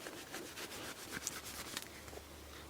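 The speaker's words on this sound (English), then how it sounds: "let me get your polishing rag," A polishing rag rubs over motorcycle plastic panels in quick, repeated back-and-forth strokes, close and soft, a faint steady hum beneath and no speech.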